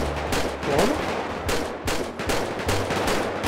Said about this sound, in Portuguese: Dá pra ouvir o barulho do tiro,